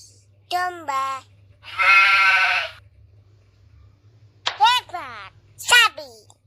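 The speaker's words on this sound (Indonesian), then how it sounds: "Domba." Sheep bleating in a children's animal sound lesson: one long wavering bleat sits between short spoken words from a child-like voice and a narrator, clear and close, set against a faint low hum.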